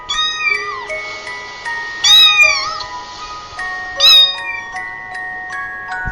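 A cat gives three drawn-out meows spaced a couple of seconds apart, over soft sustained musical tones.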